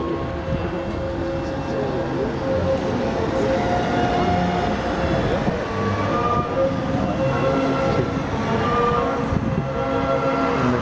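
Airbus A380-800 on approach to runway 03 at Le Bourget during the 2011 air show: a steady, loud jet roar holds without a break for about eleven seconds, broad and rumbling.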